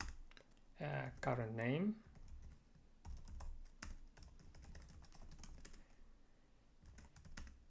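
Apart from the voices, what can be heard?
typing code on a computer keyboard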